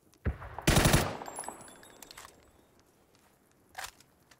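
Gunfire in the console battle-royale game PUBG: a sharp, loud burst of shots with a trailing echo, then a single fainter shot a few seconds later.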